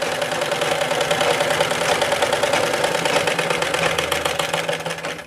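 A sewing machine runs continuously, stitching a cross patti strip along a marked line, a fast even mechanical whirring with rapid clicking that eases off near the end.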